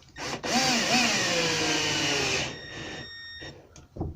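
Close, loud whirring of a power driver sinking screws into an oak door frame, a steady grinding drone with rising and falling motor pitch for about two seconds, then winding down to quiet with a faint click at the end.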